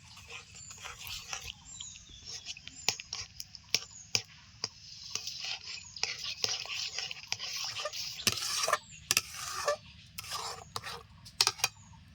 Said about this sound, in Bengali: নাড়তেই থাকবো তা না হলে কিন্তু দলা ধরে যাবে